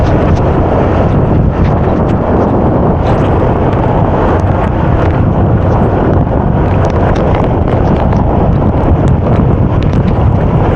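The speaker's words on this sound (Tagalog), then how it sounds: "Malakas hangin, tsaka malakas ulan." A loud, unbroken roar of strong wind battering the microphone in Baclaran, with heavy rain hissing throughout and no pauses.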